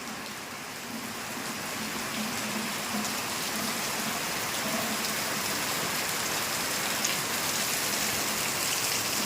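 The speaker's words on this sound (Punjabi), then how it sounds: "ਆ ਗਿਆ ਜੂਰਾ ਸ਼ੂਰਾਂ ਦਾ ਮੀਂਹ" Heavy rain pours steadily, a dense even hiss of drops hitting surfaces that holds constant throughout with no voices.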